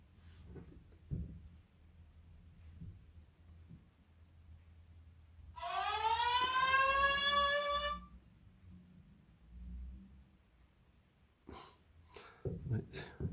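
A warning alarm siren sounds from an OUKITEL RT7 Titan 5G rugged tablet, a wavering electronic tone lasting about two seconds, with quiet handling noises and faint speech around it.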